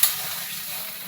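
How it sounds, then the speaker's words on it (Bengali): Water poured into a hot pan of fried potato masala hisses and sizzles steadily, a dense close sizzle that starts with a brief splash and holds evenly throughout. "এবার আমি এটা দিয়ে দেবো 1 বাটি পরিমাণের জল"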